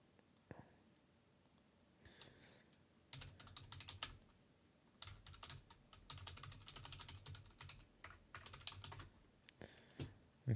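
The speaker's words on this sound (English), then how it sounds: "What am I typing?" Keys clatter on a computer keyboard in quick irregular bursts of typing, close and fairly quiet, with brief pauses between flurries.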